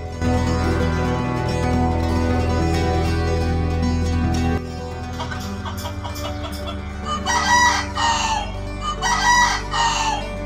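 A cartoon rooster crows in long, loud, drawn-out calls over a steady music bed, then breaks into a few shorter bursts of crowing near the end.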